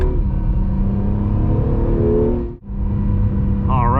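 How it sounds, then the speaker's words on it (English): 2020 Acura NSX with a V6 engine held at high revs, a loud sustained engine drone with a brief sharp dip mid-clip before the revs pick back up, a voice speaking over it. "I love just hearing it kind of, yeah, just keeping the revs up like that."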